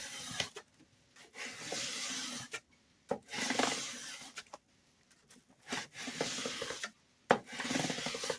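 Metal file rasping across the frets of a Fender Telecaster Nashville during repair, several short bursts of rubbing strokes separated by brief pauses, close and fairly loud.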